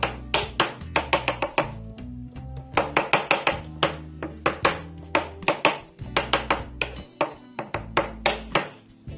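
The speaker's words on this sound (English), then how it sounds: "chop that meat up" Cooked meat being chopped on a board for Southern pinto beans, a close, loud run of sharp knife thunks in quick irregular bursts with short pauses between, no talking.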